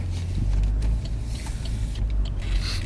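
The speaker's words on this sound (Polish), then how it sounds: "niech tam ktoś przejedzie tym samochodzikiem" A car rolls past at low speed near a wedding venue in Zbąszyń, its engine a soft continuous rumble that swells and fades over a few seconds, with no voices.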